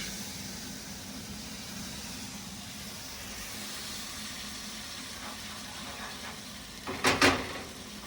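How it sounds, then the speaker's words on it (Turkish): A stream in the Black Sea region of Turkey runs past an outdoor spot where kuymak is being cooked, giving a steady, even rush of flowing water throughout with a short, louder splashing burst near the end. "Dereler akar gider."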